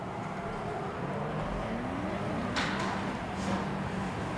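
Two BMW cars battle in a drift competition, heard as a distant, steady engine drone with faint rising tire and revving tones over crowd ambience.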